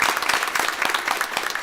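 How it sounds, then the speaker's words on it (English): Applause from a school board meeting audience honoring a district mechanic, a dense steady patter of many hands clapping at once, moderately loud and continuous throughout with no talking. "let's give him a round of applause"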